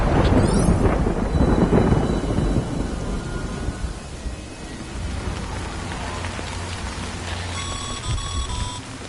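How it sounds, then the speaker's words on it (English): Heavy rain with rumbling thunder in the video game Death Stranding, a loud, dense downpour that eases slightly midway while steady rain continues, with faint tonal game sounds near the end. "Good thing it was raining."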